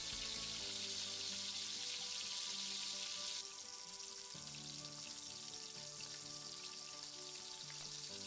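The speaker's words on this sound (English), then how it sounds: "Then we're going to add our tomato and pepper blend." A tomato and pepper blend goes into a pot of hot oil and onions for Nigerian native jollof rice, giving a steady close hiss and sizzle that changes partway through, with soft music underneath and no talk.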